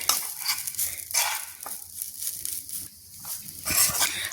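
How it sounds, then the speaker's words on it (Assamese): Grated coconut being lightly fried in a pan for Assamese coconut pitha, with close, intermittent scraping stirs and a soft sizzle between them. "মই নাৰিকলখিনি অকনমান ভাজি লৈছো"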